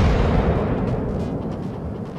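Naval guns of the battleship Marco Polo firing in the video game World of Warships: a heavy, rumbling boom that rolls on and slowly decays, loud and close, with no talking.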